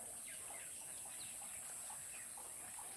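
Grey, peacock-like birds with red beaks call in Assam, scattered short clucks and chirps at moderate distance over a steady high-pitched insect-like whine and faint background.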